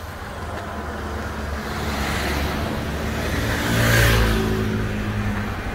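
A BMW 320i pulls away and accelerates, its engine note rising steadily to a peak near the end of the clip before easing slightly, heard alone with no talk.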